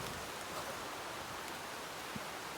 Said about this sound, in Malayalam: മഴ വന്നു, നമുക്ക് കുളിക്കാം